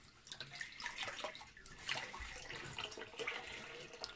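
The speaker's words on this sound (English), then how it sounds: "you just basically take them under the running water, let the water run over it" Tap water runs steadily over salad greens from an allotment being rinsed, a faint continuous splashing hiss with small irregular spatters as the leaves are moved under the stream.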